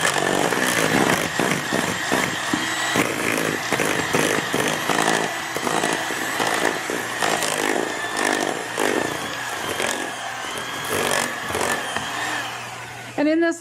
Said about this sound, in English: And then I'm going to mix this up.